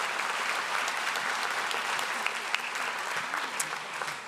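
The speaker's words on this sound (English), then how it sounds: "Let's give her a well-deserved round of applause." A crowd at an awards ceremony claps steadily, a thick, even roar of many hands heard from a moderate distance with a few louder claps rising out of it.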